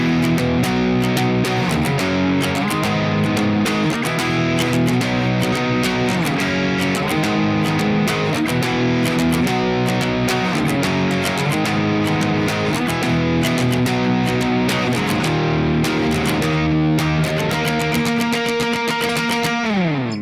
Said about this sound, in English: The chorus will sound like this.